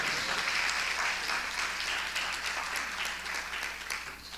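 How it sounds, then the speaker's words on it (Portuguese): Congregation applauding in a church service, a steady wash of clapping that stays dense and fairly even throughout, with faint voices and a cheer or two mixed underneath. "Aplauda o nome de Jesus, Sabaó."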